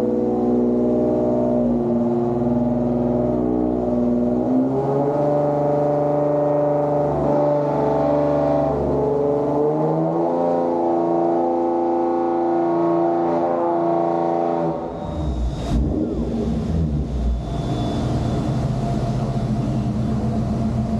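A tuned car engine revs hard on a dynamometer in fourth gear, a loud sustained drone with rising and falling harmonic pitch, then a sudden drop-off and rougher, chattering revs near the end.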